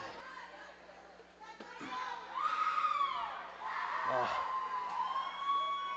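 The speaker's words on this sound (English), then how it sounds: "the crowd erupts for the Oneida Braves goal by Dax Brown" Spectators at a box lacrosse game in Onondaga Nation Arena cheer and shout after an Oneida Braves goal, a mixed crowd roar with children's voices that swells midway and holds, with talk over it.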